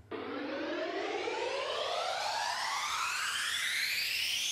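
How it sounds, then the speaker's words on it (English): An electronic music riser effect: a bright, noisy synth sweep that climbs steadily in pitch for several seconds, loud and unbroken, with no voices. "And a riser."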